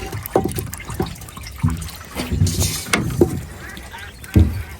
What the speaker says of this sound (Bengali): দেখুন মাছগুলো আপনাদেরকে ঢেলে দিয়ে দেখাই